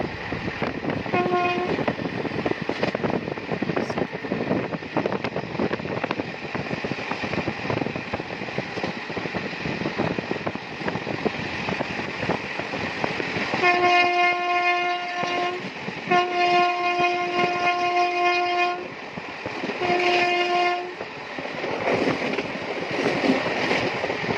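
The Hool Express passenger train rolls into Durgapur steadily with a continuous rumble and rattle, its horn sounding in several long blasts partway through.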